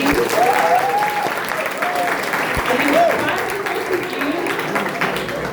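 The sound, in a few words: audience applause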